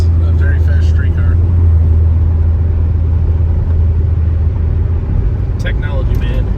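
A 750 rwhp Chevrolet Corvette C7 Z06 with an LT4 V8 and a BTR stage 2 camshaft rumbles steadily from inside the cabin while driving, a deep, loud, constant drone with occupants talking over it.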